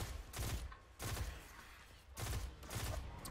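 Rapid bursts of gunfire from a newly acquired weapon in Destiny 2, several strings of shots with brief gaps between them, loud and close.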